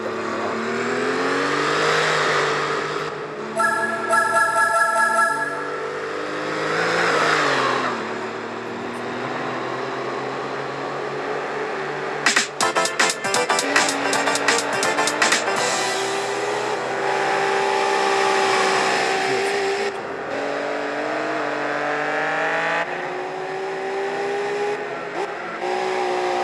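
The 415-horsepower Roost BTR race car in Gran Turismo 4, its engine droning and revving up and down through gear changes, with brief rattling bursts and tire noise over a long continuous stretch.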